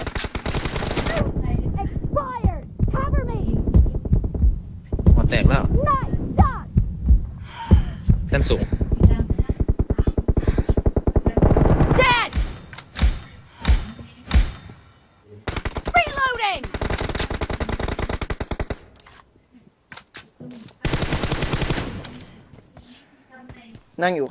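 Gunfire in a video game team deathmatch: rapid automatic bursts and single shots come in bunches, often under lively talk from players, with short quiet gaps between exchanges.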